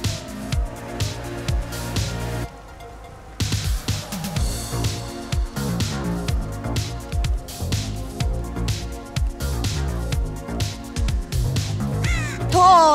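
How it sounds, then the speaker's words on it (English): Crows caw in the Dead by Daylight video game, several harsh calls ringing out over dense game music and effects with a busy, pulsing rhythm. "Oh, the bird!"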